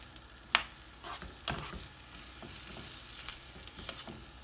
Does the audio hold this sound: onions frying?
yes